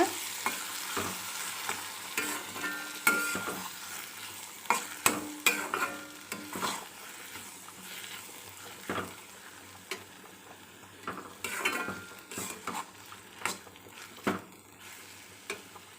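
Okra mixed with ground coconut in a pan, stirred with repeated scraping and clinking strokes over a soft continuous sizzle, irregular in rhythm and close by, with no talking.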